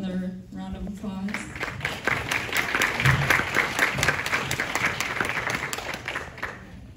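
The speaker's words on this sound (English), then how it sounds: "can we give her another round of applause?" An audience breaks into sustained applause and clapping at a sales celebration honoring a new sales director, loud and steady throughout with a few cheers mixed in.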